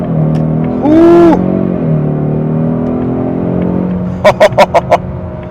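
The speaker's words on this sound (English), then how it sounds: "Yeah, this thing can get up and go really good." A 2026 Ford Mustang EcoBoost Premium pulls hard under acceleration, its engine note rising through a steady drone from inside the cabin during a test drive, with a brief rise around the first second and a few sharp clicks near the end.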